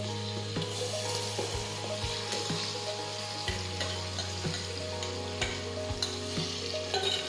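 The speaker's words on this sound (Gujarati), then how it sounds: "હવે આપણે સાતળી લઈશું. હવે આપણે પીસેલા કાંદા નાખી દઈશું." Ground onions sauté in a pan for pav bhaji, a steady sizzle running throughout with occasional scrapes and stirring knocks, close and even, with no talking.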